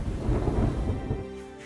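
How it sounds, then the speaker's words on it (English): Thunder rolling during a thunderstorm in the skies above Derbyshire, a deep sustained rumble that slowly fades, heard alone at moderate volume. "the sky flashes white, thunder rumbles"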